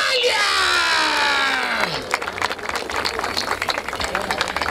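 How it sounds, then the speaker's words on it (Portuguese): Crowd at a street rap battle in Barueri shouts and cheers loudly, the voices sliding downward, then breaks into dense clapping and scattered whoops that continue to the end. "Palmas pra essa batalha!"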